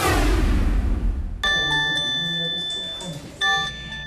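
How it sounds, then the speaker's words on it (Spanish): Google's earthquake early warning alert on an Android phone: after a rumbling, noisy start, a loud bright electronic chime sounds with stacked ringing tones, then a second chime strikes near the end. "Este es el sonido de la alerta temprana para sismos de Google."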